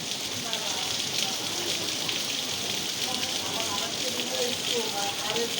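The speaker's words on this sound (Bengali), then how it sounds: "বৃষ্টি পানি পড়ে" Heavy rain in Dhaka pours off a rooftop, making a steady, dense hiss of falling water and splashing drops that holds at an even level throughout.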